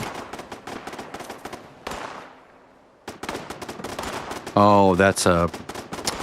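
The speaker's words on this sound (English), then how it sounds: "I was thinking, what's firing so quickly?" Rapid automatic gunfire in Fallout 76, a fast stream of close, sharp shots running through most of the moment with a brief lull, while someone talks over it near the end.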